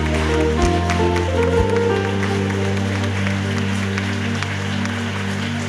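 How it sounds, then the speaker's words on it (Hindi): A church congregation at a worship and healing prayer service claps loudly, a steady dense wash of applause running under sustained keyboard music throughout. "जोरदार तालियां बजाएं, प्रभु को धन्यवाद दें।"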